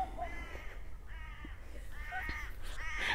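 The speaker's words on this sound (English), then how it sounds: "so there are some crows over there" Several crows caw outdoors in a series of harsh, repeated calls, some overlapping, at a moderate distance and fairly faint against a quiet background.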